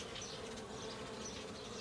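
A dense, steady hum of honeybees fills an open hive during inspection, with drones among them and a cluster of bees nearby, close and unbroken over a couple of seconds.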